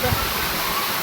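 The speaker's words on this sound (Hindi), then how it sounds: "तो चलिए आपको इस झरने की खूबसूरत आवाज भी सुनाते हैं।" A waterfall at Rock Garden Chandigarh gives off a steady, full rush of falling water, close and loud, for about a second.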